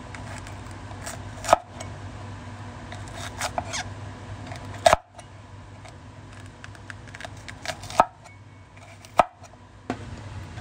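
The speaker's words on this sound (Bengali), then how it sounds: "ক্যাপসিকামগুলো আমি এরকম করে লম্বা করে স্লাইস করে কেটে নেব।" Knife slicing capsicum into thin strips on a cutting board, a few sharp close chops standing out above quiet background noise.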